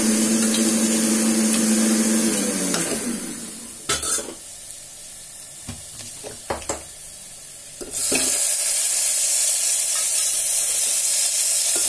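Onions sauté in a pan for pulao with a steady close sizzle and a low hum, then quieter clatter and stirring clicks in the middle before loud bright sizzling resumes.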